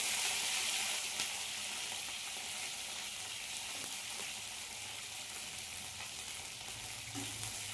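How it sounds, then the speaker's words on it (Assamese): Okra fries in hot oil in a pan with a steady, close, bright sizzle and occasional faint stirring clicks, the crackle even and unbroken throughout. "তাৰপিছত অলপমান ভেন্দি ভাজি ল'লোঁ।"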